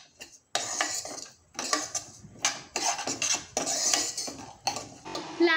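A metal spoon stirs broken-wheat lapshi roasting in ghee in a pan, giving close, repeated scraping and clinking strokes in uneven bursts with no talking.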